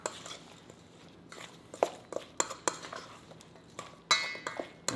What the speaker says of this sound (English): we're just going to mix all this together